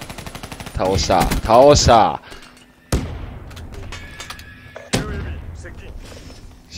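Gunfire in the shooter game Call of Duty: Black Ops 3, with sharp shots sounding over the first seconds and a couple of heavier bursts later, while a player talks over the action.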